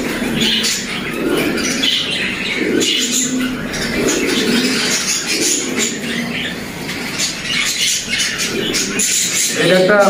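Jacobin pigeons kept on a breeding farm, soft low cooing repeating through a busy, fairly loud background of other noise and indistinct voices.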